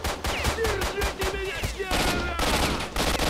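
Gunfire in the video game STALKER: rapid, loud bursts of automatic shots in quick succession, broken by short pauses, with game sounds mixed in.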